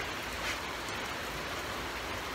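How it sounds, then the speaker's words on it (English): Steady rain from a passing thunderstorm pours down in an even, continuous hiss, with no voices or thunder cracks standing out. "We have a bit of a thunderstorm passing through."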